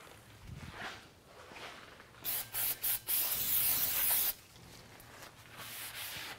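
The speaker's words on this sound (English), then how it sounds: "we're going to clean with brake clean the back side of the rotor from all the shipping greases and oils" Brake cleaner sprays onto the back side of a rear brake rotor on a 2007-2013 Acura MDX, three short bursts followed by a longer hissing blast, close and loud amid quiet shop handling sounds.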